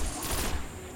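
Rapid bursts of gunfire in the game Destiny on PlayStation 4 crackle in quick succession, fairly loud and continuous with no voices.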